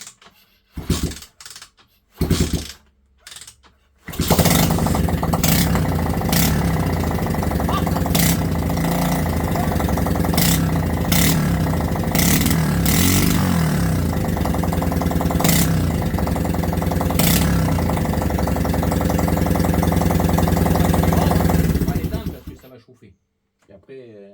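A 125cc engine in an MMX Rookie dirt bike with an open exhaust roars loud and close for about eighteen seconds, its rapid buzzing drone punctuated by repeated rev spikes, after short bursts and voices at the start.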